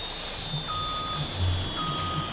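Reversing beeper of a water truck in the farming game Farming Simulator 17, two steady electronic beep tones repeating at an even pace over a low engine hum, with no talk.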